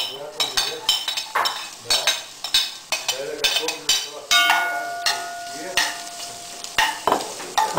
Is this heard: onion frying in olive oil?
yes